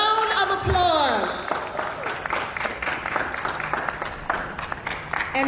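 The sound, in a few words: audience applause for Nurse of the Year nominees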